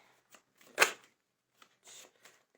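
Tarot cards are picked and shuffled in a quiet room: soft papery flicks and rustles come in scattered bursts, with one louder riffle near the start.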